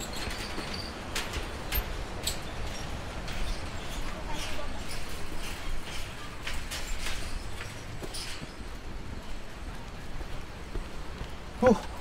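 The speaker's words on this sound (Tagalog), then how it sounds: "Ay, ulan." Rain falling steadily during a motorcycle ride on the mountain road to Buscalan near the Banaue rice terraces, a continuous fine patter with a few sharper drops, moderate and unbroken, with no voices.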